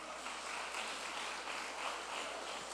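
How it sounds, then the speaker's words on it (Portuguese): A church congregation claps together in steady, continuous applause that fills the room at a moderate, even level, with no voices standing out. "As palmas para o Senhor."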